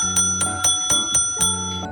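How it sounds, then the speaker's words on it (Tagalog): A toy timer bell from a forklift challenge game rings rapidly and repeatedly, about eight bright metallic dings in a steady rhythm with overlapping ringing tones, close and alone. "May bell para sa timer."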